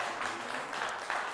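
The Zoppola audience at a quiz show applauds in a brief, fairly faint but continuous rush of clapping, even in level, with no talking.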